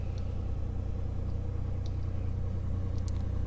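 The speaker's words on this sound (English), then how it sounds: "We'll shut down the engine." A Piper Comanche engine idles low and steady just before shutdown, a continuous rumbling drone holding at an even loudness throughout.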